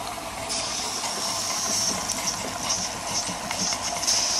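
A Jensen 20G model toy steam engine runs on live steam, giving a loud, steady hiss with a fast mechanical chuffing rhythm throughout, close by and without talk.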